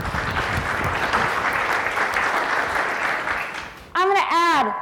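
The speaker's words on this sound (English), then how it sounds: "Round of applause for these guys, okay?" An audience at the 2015 SSBC conference in San Francisco applauds, a dense, steady clapping that fades out before a voice speaks briefly at the end.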